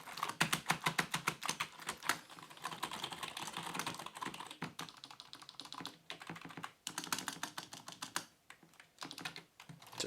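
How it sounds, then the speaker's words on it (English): Fingers type in rapid, uneven bursts on a TeckNet X300 wireless rubber membrane keyboard, soft muted clacks close up with brief pauses between runs and no talking. "how I would normally type on a keyboard"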